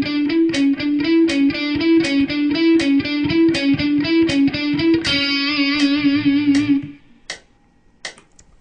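Guitar notes picked in a steady, even run with the picking hand synchronized to the fretting hand, each note crisply articulated; the run ends in a few sustained notes, followed by a couple of isolated plucks.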